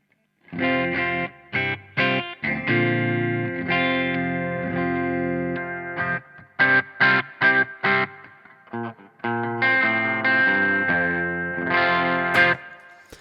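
Electric guitar with a clean amp tone: strummed chords ring and sustain, broken by short choppy stabs, then a final ringing phrase, played alone.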